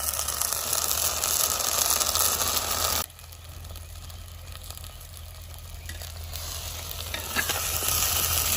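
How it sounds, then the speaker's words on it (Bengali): Tomato and ginger-garlic paste masala fries in a pan, a loud dense sizzle that briefly drops quieter mid-way before swelling again, with occasional stirring clicks. "টমেটো, আদা রসুনের পেস্ট, এটাকেও ভেজে নিতে হবে"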